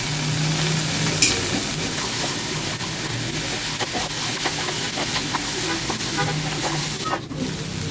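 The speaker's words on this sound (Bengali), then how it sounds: "মশলা কষানো হয়ে গেছে, দিয়ে দেবো চানাটা" Chickpeas go into a pan of fried spice paste, which sizzles loudly and steadily with a constant hiss and occasional stirring scrapes throughout.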